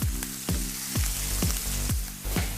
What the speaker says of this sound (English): That way we can get a hard sear on these before the center is dried out.